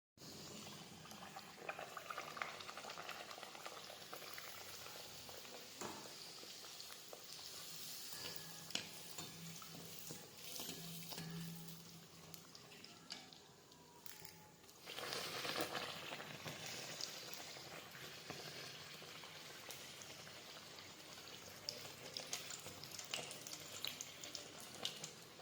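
Bhature fry in hot oil for chole bhature, a soft, continuous bubbling sizzle heard at low level with small crackles and a slight swell partway through.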